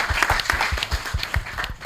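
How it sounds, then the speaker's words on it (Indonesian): A studio audience at an Indonesian radio broadcast of an interactive university dialogue gives a short round of applause, quick irregular claps heard clearly on their own. "Lagi-lagi tepuk tangan nih buat kita semua ya."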